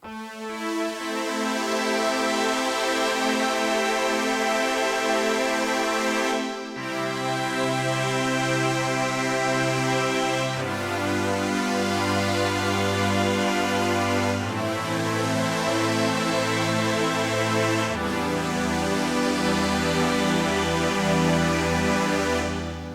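A Korg Multipoly synthesizer plays thick, sustained four-layer chords that ring out loud and dense, shifting to a new chord every few seconds with a deep, buzzing low end.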